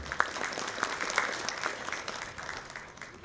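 A seminar audience applauds, a brief patter of scattered claps at moderate distance, fairly soft and fading over a few seconds.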